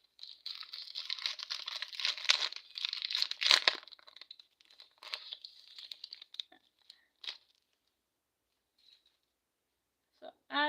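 Plastic wrapping on a Pokemon card pack crinkles and tears in quick, faint rustling bursts for several seconds, then trails off into quiet with a few scattered sounds and a short voice at the end.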